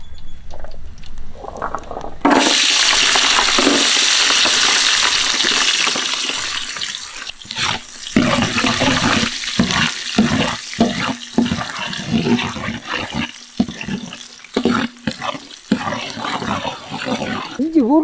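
A loud, steady sizzle of ginger and garlic frying in hot oil fills the clip, with bursts of crackling and a voice speaking over it, during outdoor village cooking of a fish gravy.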